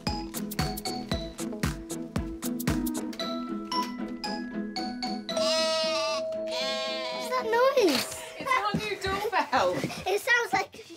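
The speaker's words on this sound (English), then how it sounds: "It sounds like a sheep." A sheep bleating in a live-action children's show: plinking musical notes give way to a loud, wavering, drawn-out bleat, followed by a few shorter bleats and clinks near the end.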